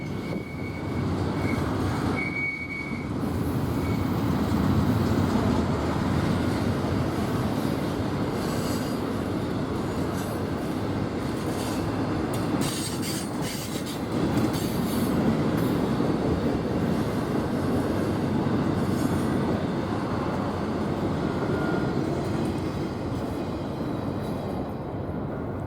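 Union Pacific freight locomotives roll steadily past as a long, loud, continuous rumble of wheels and cars, with brief metallic squeals near the start and no voices.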